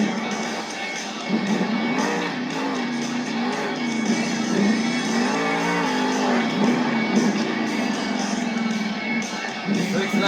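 The Jurassic Attack monster truck drives around a dirt arena at a Monster Jam event in Portland, its engine droning and revving under crowd noise and an announcer's commentary.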